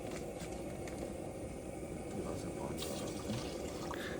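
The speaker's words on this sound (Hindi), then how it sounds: "ये देखो स्टाफ में चाय में पानी मिलाते हुए" Water is poured into staff tea at an earthwork site, making a faint, continuous filling trickle with a low murmur of voices in the background.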